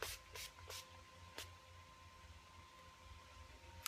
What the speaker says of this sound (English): To set everything, I'm gonna use this Skindinavia finishing spray oil control